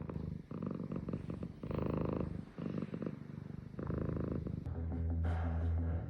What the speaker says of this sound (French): Tu vas avoir des courbatures de ronron